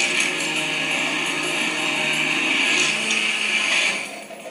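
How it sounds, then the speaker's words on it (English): Blender pureeing a mushroom and potato bisque, a loud steady whir running for several seconds before winding down at the end, with no talking. "and now I'll just puree it."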